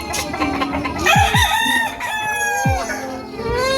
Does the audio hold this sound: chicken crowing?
yes